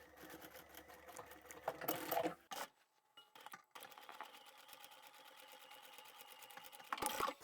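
A sewing machine stitches the side seams of a bag's cotton lining, running in steady bursts with a short pause midway and a brief louder push near the end, close and alone.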